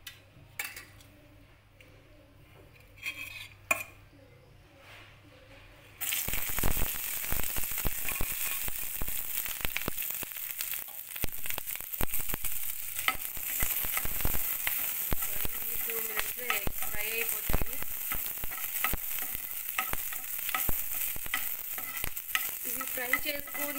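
Green chillies sizzle in a teaspoon of oil for dosa chutney, starting after a quiet stretch, then a loud, steady close fry with stirring scrapes and clinks and occasional talk over it.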